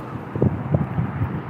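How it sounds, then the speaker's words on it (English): Wind gusting on a chilly winter day at an outdoor roadside gathering, a low steady rumble with soft buffeting swells against the microphone, no voices. "it's just the wind"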